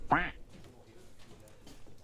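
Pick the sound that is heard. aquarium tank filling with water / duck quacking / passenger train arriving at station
duck quacking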